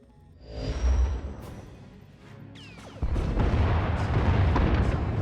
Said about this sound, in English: Enemy is firing. Turbo lasers, missiles, and what looks like transport pods.